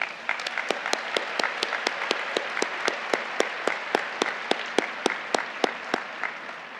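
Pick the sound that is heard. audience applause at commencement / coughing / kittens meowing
audience applause at commencement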